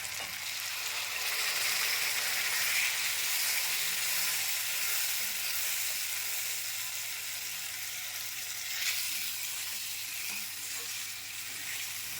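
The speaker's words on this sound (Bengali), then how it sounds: "এবার লঙ্কা আর আদা বাটা দিয়ে দেব। টমেটো পেস্ট দিয়ে সব কিছু ভালো করে মিশিয়ে নেব।" Ground spices, chili-ginger paste and tomato paste fry for aloo dum while being stirred, a steady, fairly loud sizzle that holds throughout with a brief flare of spatter near the end.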